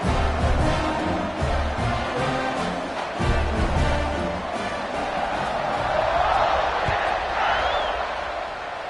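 A football stadium crowd in a video game roars and cheers ahead of a kickoff after an extra point. The broad swell holds for several seconds, steady and fairly loud, under a commentator's voice.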